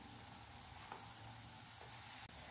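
Tomato masala for masala macaroni softening in a hot pan, a steady low sizzle and hiss with faint stirring ticks, quiet and close, no voices.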